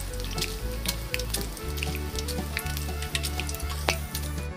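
Quail egg and pumpkin balls deep-frying in hot oil, a steady dense sizzle with scattered bubbling pops throughout, close and alone with no talking.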